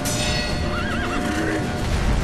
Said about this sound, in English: The horse is jumping.